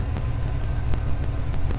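A Cadillac Escalade engine runs at a steady idle after an oil change, a continuous low rumble with faint periodic ticks, heard alone.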